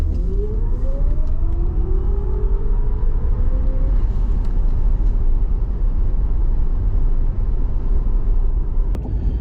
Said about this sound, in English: We have no regen on, and we're going to launch it.